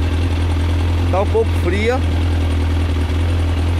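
A Kawasaki ZX11 motorcycle with fuel injection idles slightly lean, a steady low rumble running throughout while someone speaks briefly over it.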